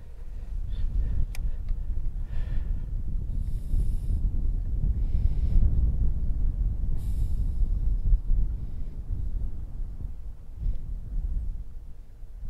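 Wind blowing across a fishing boat out on the water during crappie fishing: a steady, rumbling buffet of wind noise throughout, with faint higher gusts coming and going.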